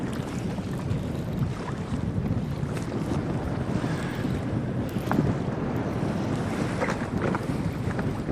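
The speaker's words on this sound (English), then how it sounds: "wind is picking up." Wind gusting across Lake Cayuga during a bass fishing tournament, a steady low rumbling buffet with lapping water and boat noise, continuous and moderately loud with no voices.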